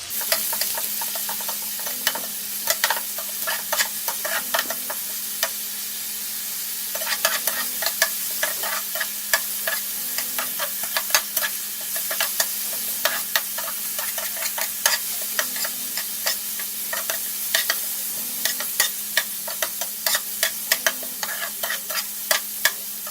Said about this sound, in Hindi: अब हम इसमें प्याज शामिल करेंगे। इसको ब्राउन नहीं करना, सिर्फ हल्का सा सौते करना है।